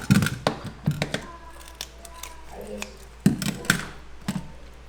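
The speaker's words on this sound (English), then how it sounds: "she gets the scissors after them right away" Scissors snip through fish in the Philippines, with a run of sharp, close cutting clicks at an irregular pace and faint voices in the background.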